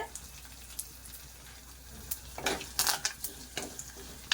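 Chana dal and cabbage curry with asafoetida fries quietly in a pan, a soft sizzle broken by scattered sharp clicks and scraping taps of stirring that grow busier toward the end.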